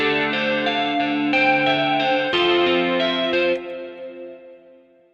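A distorted, chorused guitar phrase, made in FL Studio 20 without a real guitar, repeats as a loop, notes ringing out with a reverb tail that fades away at the end.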